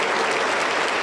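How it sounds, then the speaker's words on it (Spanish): Congregation at a Pentecostal church service claps together in loud, continuous, dense applause, a steady roar of hands without clear individual beats. "Aplauso para el Señor Jesús."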